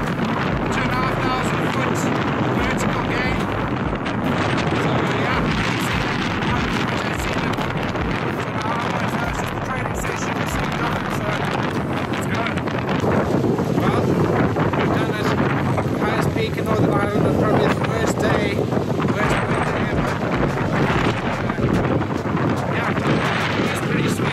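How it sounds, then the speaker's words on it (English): Strong wind roars across a mountain in the Mourne Mountains during a cold whiteout, buffeting the microphone loudly and continuously throughout. "Total whiteout, can't see a thing wind is so strong, pretty cold too"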